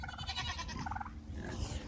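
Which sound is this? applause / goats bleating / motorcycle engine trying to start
goats bleating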